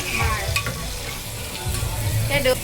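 Bombay duck (bombil) fish fries in a pan with a continuous close sizzle and crackle, punctuated by a few sharper spatters and stirring scrapes, fairly loud and with no talk.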